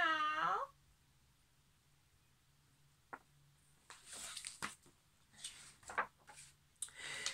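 A voice imitates a cat's meow in a children's story, a short wavering cry at the start followed by quiet and then scattered soft rustles and noises.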